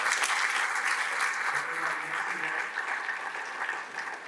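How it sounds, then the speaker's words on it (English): Applause from a conference audience after a panel discussion session fills the room, sustained and fairly even in strength, easing slightly toward the end, with a faint voice briefly heard beneath. "I want to just give a round of applause."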